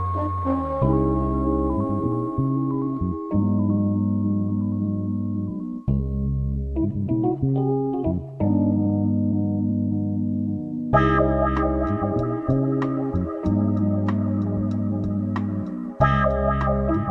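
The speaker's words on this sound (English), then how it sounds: "Synthy digital sounds." Synthy digital tones from an electronic track, layered bright processed synth notes over a steady bass pattern, loud and continuous with sections shifting every few seconds and crisp higher sparkles joining in the latter part.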